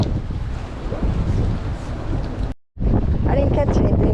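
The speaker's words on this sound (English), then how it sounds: "I just wanted you to experience the wind on the top level" Strong wind buffets the microphone on the open top deck of a crabbing boat at Captree, with rain falling; a loud, steady roar that briefly cuts out, then resumes.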